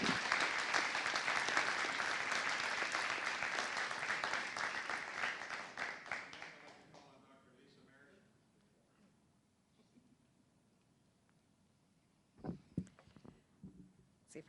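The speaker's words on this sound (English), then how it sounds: "Please give them all one more round of applause." Sustained applause from an audience at a board of education meeting honouring military recognitions, fading out after several seconds into quiet room noise with a few scattered thumps and handling sounds at the end.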